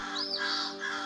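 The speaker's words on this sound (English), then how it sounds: "these crows had a certain sound for when a cat was near." American crows giving an alarm call at a cat climbing a tree, a brief harsh caw burst at moderate distance over a quiet background.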